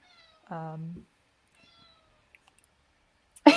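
A pet cat gives a single clear, close meow lasting about half a second, followed by near silence with a few faint clicks and a brief rustle at the end.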